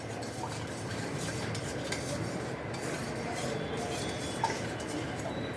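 A spoon stirs salt and sugar in a pot, giving a steady scraping and rasping against the metal with faint clinks throughout, close and continuous.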